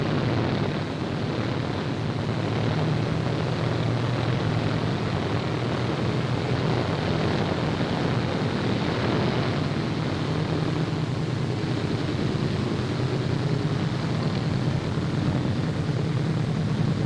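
Loud, steady drone of a P-47 propeller fighter plane's engine in flight, a continuous broadband roar that holds without break throughout.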